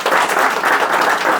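Steady applause from a group of people at a birthday celebration in the village of Shenik, Armenia, with dense continuous clapping filling the whole stretch at close range and no voices over it.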